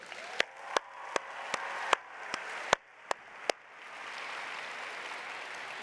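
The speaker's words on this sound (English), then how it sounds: "So give a big round of applause to them" Audience applause at a science fair opening ceremony, a broad rustling wash of clapping from a large crowd with sharp, evenly spaced loud claps or beats over it, then the applause fading into a softer steady roar.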